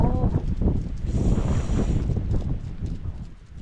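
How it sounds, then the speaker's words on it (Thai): Strong wind gusts buffet the microphone in a high mountain forest, a steady loud rumbling roar that swells in the middle and eases slightly toward the end. "ลมแรง"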